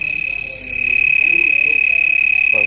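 A Master Cool refrigerant leak tester on an HVAC system sounds a loud, continuous, high-pitched electronic alarm tone with faint rapid pulsing throughout.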